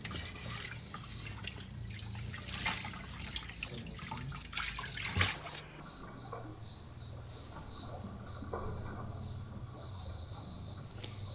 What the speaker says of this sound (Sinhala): මුලින්ම මැටි භාජනය ඇතුල් පැත්තේ පිට පැත්තේ හොඳට සෝද ගන්න ඕනි.